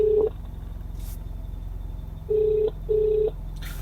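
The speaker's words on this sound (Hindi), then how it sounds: "देख सकते हो भाई फोन मिल रहा है और घंटी भी जा रही है।" A phone call placed through Android Auto in a Baleno car rings out through the car speakers: a short tone, then a double ring pattern of two steady buzzing tones over low cabin hum.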